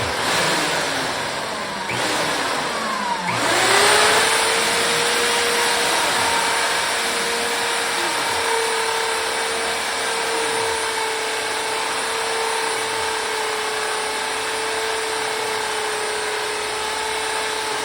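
A motorized spring winder machine spins up and then runs at a steady whirring hum while turning its pulley, with faint periodic clicks beneath the drone.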